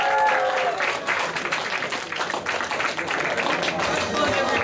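An anime convention audience claps steadily through a round of applause after a game-show style quiz contestant wins, a dense patter of many hands close by and sustained throughout.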